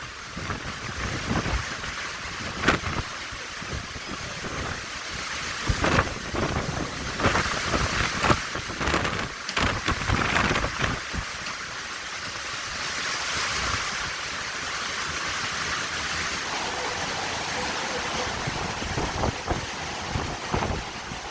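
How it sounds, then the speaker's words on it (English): Relentless roaring hurricane wind with heavy rain lashing down in Houma, Louisiana, surging in loud gusts over 110 mph and rattling impacts, a dense storm noise with no talking. "these gusts are well over 110, 120 miles per hour"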